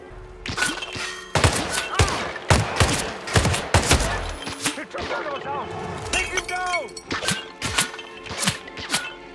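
Sharp gunshots crack in irregular bursts during a Hitman Freelancer mode match, loud and close, with several people talking and shouting between the shots.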